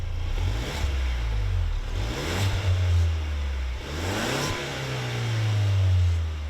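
A Ford Ranger FX4 pickup with a 2.3-liter turbocharged four-cylinder engine accelerates hard, its engine note rising and dropping through several gear changes, loud and steady with no talking.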